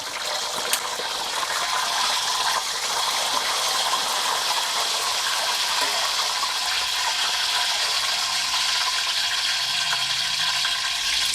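A continuous, even sizzle of pork belly frying in oil in a pan fills the whole stretch, close and steady, with no voices.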